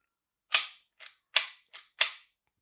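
Five sharp, dry metallic clacks from a G&G GPM92 airsoft pistol being dry-fired with its slide cycling, loud and close, spaced about half a second apart with silence between.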